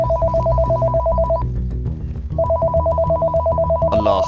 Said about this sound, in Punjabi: ਚੌਧਰੀਆਂ ਦੇ ਫੋਨ ਵੀ ਹੁਣ ਇਮਲੀ ਨੂੰ ਆਉਣ ਲੱਗ ਪਏ